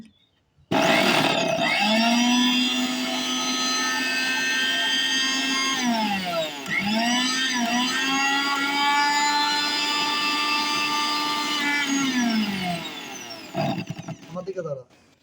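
A steel blender with a freshly repaired coil starts up into a loud, high motor whine. It dips briefly partway through, then runs steadily for several seconds before winding down.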